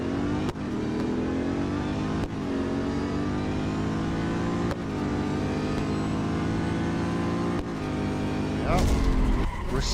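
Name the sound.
Chevrolet car drag race in video game Real Racing 3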